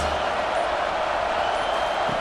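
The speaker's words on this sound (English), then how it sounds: "Big 3rd down as the crowd gets behind this defense." A college football stadium crowd at Ole Miss at South Carolina roars on a big third down, a dense, steady wall of noise that holds without a break.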